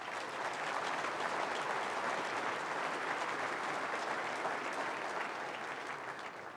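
Steady, dense applause from a large audience at a provincial State of the Province address, sustained and even for several seconds before tapering slightly at the end.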